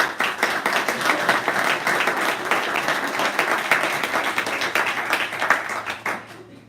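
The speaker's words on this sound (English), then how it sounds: "can we get a big round of applause for Jim and Banner?" An audience at a STEM teachers' TeachMeet in Glasgow gives a big round of applause, many hands clapping in a lively, steady stream that tapers off at the end.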